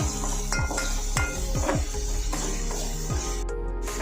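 Onions with salt stirred in a pan, a utensil scraping and knocking against the metal in repeated quick strokes over a steady sizzle, close and fairly loud with no talking.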